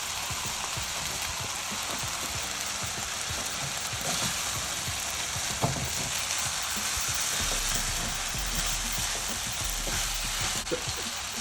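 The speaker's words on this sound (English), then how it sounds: "And I'll stir in the remaining rice." Rice stirred into fried rice with soy sauce in a hot pan gives a steady sizzling hiss, with scraping and clacking of the utensil against the pan at irregular moments.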